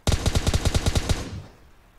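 Automatic gunfire in the video game PUBG, a rapid burst of about ten evenly spaced loud shots followed by a fading echo tail.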